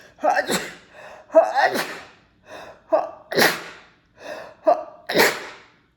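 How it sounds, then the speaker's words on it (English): A person gasps and sneezes in a series of sharp bursts, several sharp inhale-and-release sounds close by with short pauses between. "I have to sneeze."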